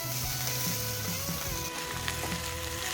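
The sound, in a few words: rice being stir-fried in a pan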